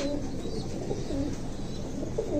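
Pigeons cooing close by in soft, repeated low calls over a few seconds, with a light background hum and no talking.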